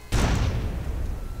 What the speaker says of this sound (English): Oh, explosive barrel.